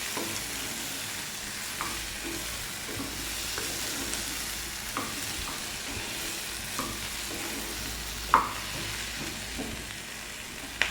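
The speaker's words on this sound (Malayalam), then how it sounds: "ഒന്ന് വഴന്ന് വരട്ടെ ഇളക്കി കൊടുത്തോണ്ടേ ഇരിക്കുക" Green chilli and onion sautéing in a pan, a steady close sizzle and fry with occasional scrapes and knocks of a spoon stirring, running continuously without speech.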